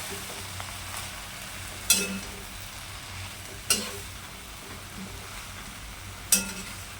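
Fenugreek leaf vegetable sizzles in a pan with a steady frying hiss, broken by three sharp scraping knocks of a spoon stirring at intervals, no voices.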